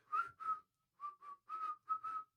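A person whistles a short, weak tune in several separate phrases with small gaps between them, heard alone and fairly close.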